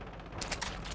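Rapid gunfire in the video game Warzone, a quick burst of several loud shots packed into under a second over a busy game background.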